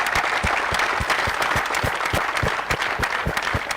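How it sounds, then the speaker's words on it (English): A tennis crowd applauds at a WTA 125 tournament in Mumbai, dense sustained clapping from many hands with a few sharper nearby claps cutting through, loud and continuous with no talk. "so big round of applause to them"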